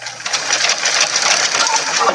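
A sewing machine stitches fabric for a makeup pouch, a fast, steady mechanical whirring run close by, with a voice briefly talking over it.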